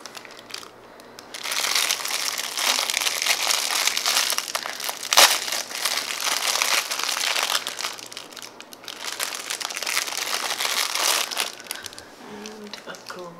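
A sticky, food-themed jelly fruit stress ball shaped like a watermelon is squeezed and pressed, giving sustained crinkly, crackling squelches that swell in two long bursts, with a brief voice near the end.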